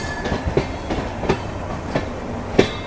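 Rhythmic clickety-clack of train wheels over rail joints, a regular series of thumps from the LTT–Kakinada Port Express leaving a station near Mumbai, with no talking.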